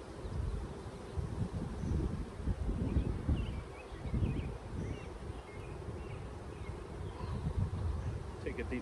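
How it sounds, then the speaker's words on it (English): Honey bees at a hive hum in a steady, dense low drone, close to the microphone, with rustling and light wind noise mixed in throughout. "This one's got a lot of bees"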